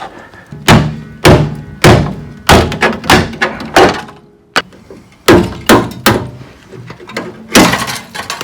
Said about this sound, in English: I just basically kept hitting that with a hammer.